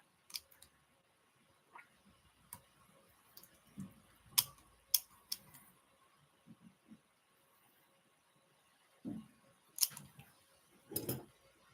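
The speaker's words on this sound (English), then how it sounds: "I'm going to carefully start to cut it." Small scissors snip fly tying material with quiet, close, irregular clicks and crisp cuts, a few fibers at a time, separated by pauses over a faint background hum, with no talking.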